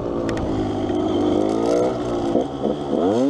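A Yamaha YZ 125 two-stroke dirt bike, converted to enduro trim with the carburetor running slightly lean, revs hard nearby, its buzzing engine climbing and dropping in pitch through gear changes with no talk.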